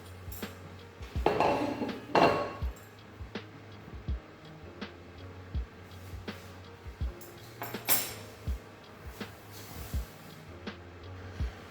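Browned Liège meatballs are lifted out of a butter-coated sauté pan, with scattered light clinks and scrapes of utensil on metal, two louder clattering bursts, and soft sizzling in between.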